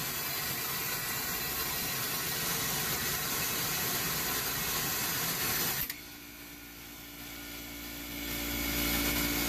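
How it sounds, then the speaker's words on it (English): A Hoshizaki ice machine gives a steady broadband whir and hiss, then shifts abruptly to a lower, humming compressor drone with a tonal edge, while a deep rumble swells toward the end. No voices. "now the compressor's on"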